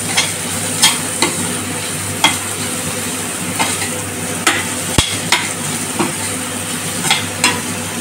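Deseeded tomatoes fry and sizzle in a pan for chilli chicken, a steady hiss broken by irregular scraping knocks as a spoon stirs them, with no talking.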